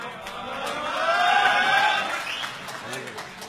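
An audience at a mushaira poetry gathering applauds to welcome the poet Altaf Shaheryar, a steady wash of clapping that swells in the middle and then tapers off.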